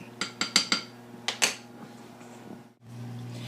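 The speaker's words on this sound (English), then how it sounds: "So I'm just going to go ahead and stir this all up." Chicken stuffing being stirred and sautéed in a pan, a spoon clanking against the metal in a quick burst of sharp knocks, then a pause and two more clacks before a low hum.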